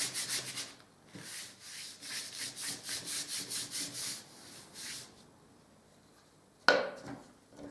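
A brush rubs paint over a ceramic tile in rhythmic close scrubbing strokes for about five seconds, then goes quiet before a single sharp tap.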